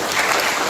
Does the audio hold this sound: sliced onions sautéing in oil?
no